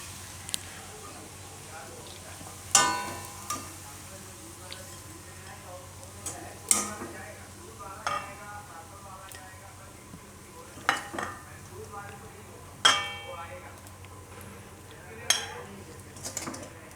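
Poha with green chickpeas served from a pan onto a plate in a Gujarati kitchen: scattered metallic scrapes and clinks of a spoon against the pan, spaced several seconds apart over a quiet background.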